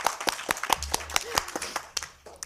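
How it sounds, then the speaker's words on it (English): Scattered hand claps from a small audience at a community cannabis forum, sparse and uneven, fading after a couple of seconds. "so let's give you an applause"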